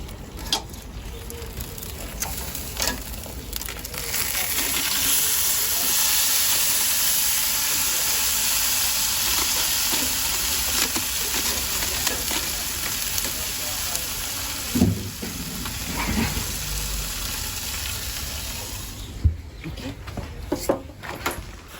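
Spatchcock chicken sizzles steadily on a Kamado Joe Jr grill, a continuous close frying hiss with occasional clicks and bumps of handling, a few light knocks near the end.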